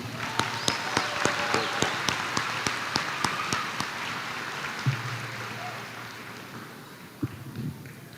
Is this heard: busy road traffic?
no